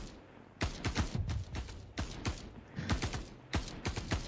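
Sharp gunshots in the video game Star Citizen during a siege on Orison, crisp individual and paired reports in an irregular rhythm, fairly close and distinct, with no voices over them.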